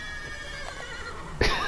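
A horse neighs in The Witcher video game, a short high whinny against faint game ambience, followed by a sharper burst near the end.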